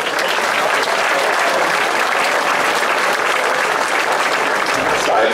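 Outdoor crowd applause at the opening of a shooting festival at a town hall, a dense, steady wash of many hands clapping at constant loudness throughout, with a few voices mixed in.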